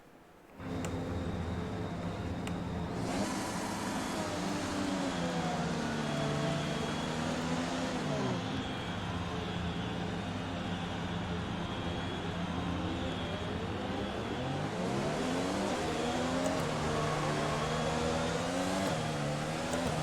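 Formula 1 car engine in the F1 2020 video game at the Chinese Grand Prix, revving steadily through a practice start, with harmonics rising and falling across two runs; loud and continuous with no talk.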